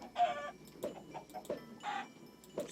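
Chickens in a survival video game clucking in short, repeated bursts, several separate calls at moderate volume with quiet gaps between them.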